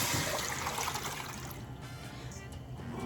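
Water pours steadily into a saucepan holding shrimp shells for a shrimp stock, a close, continuous splashing gush that eases off into a lighter trickle.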